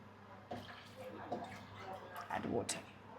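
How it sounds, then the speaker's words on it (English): Water poured slowly into a pot of whole spices frying in oil, giving a soft, continuous watery rush and sizzle with a few louder splashes, close and fairly quiet. "I will add water."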